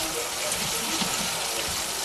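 Water from a pot of cooked food pours off in a steady, close splashing gush that runs for a couple of seconds, with no talking.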